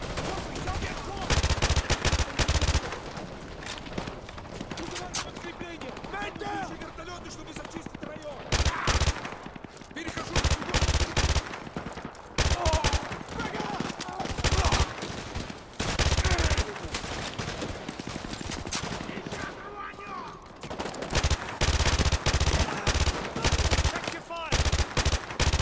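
Rapid bursts of automatic gunfire in the video game Modern Warfare 2 rattle almost continuously with brief pauses, loud and close, with voices talking in between the volleys.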